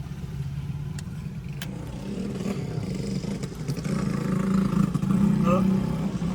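A new motorcycle's engine rumbles steadily nearby, its low drone growing louder and revving up toward the end, with faint background clatter.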